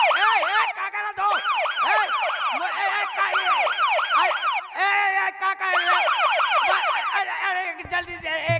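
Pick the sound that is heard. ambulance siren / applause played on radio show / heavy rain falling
ambulance siren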